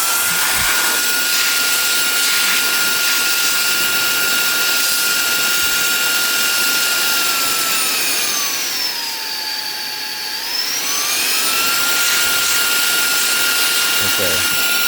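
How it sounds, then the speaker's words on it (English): A Reikiya 14KPA mini handheld cordless vacuum runs in blower mode, giving a loud, steady high-pitched motor whine and rushing air that briefly dips in pitch midway before recovering. "it's a pretty good air blower"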